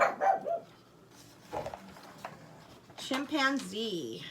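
A small pug barks a few times in quick bursts near the end, after scattered talking, with a whiny edge to the last yaps.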